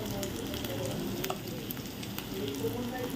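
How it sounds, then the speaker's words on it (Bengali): Fish fat sizzles steadily in hot oil in a pan, a dense, continuous frying crackle held close throughout, with soft background voices faintly underneath. "এই যে মাছের তেল হচ্ছে"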